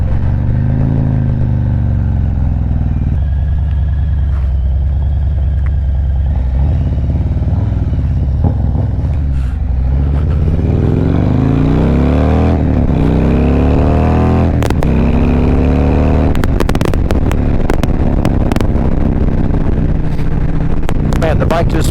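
Motorcycle ridden on a cold road freshly treated for snow: a steady loud engine drone with rising revs and clattering mechanical ticks, wind rushing throughout.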